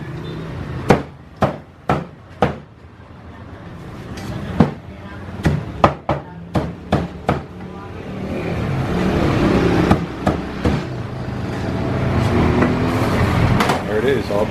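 A butcher at a street-side stall chops a chicken with a cleaver, about a dozen sharp whacks in an uneven rhythm, set against a busy evening street in the Philippines with traffic rumble and people talking nearby.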